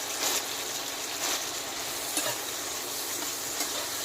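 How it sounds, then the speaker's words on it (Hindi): Spring roll filling mixed with white sesame seeds fries in oil, giving a dense, continuous close sizzle with faint stirring scrapes and no talk. "और अब इसे हम ऑयल में अच्छी तरह से भूनेंगे।"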